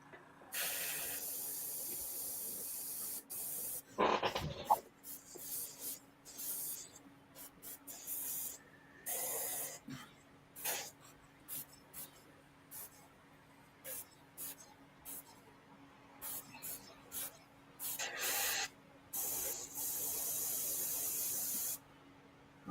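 Black spray paint hisses from a can in repeated short and longer bursts, close and fairly loud, with pauses between sprays and a faint background hum.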